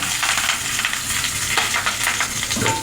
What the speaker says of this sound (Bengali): একইভাবে আমি সবই পাপড়িগুলো ভেজে নেব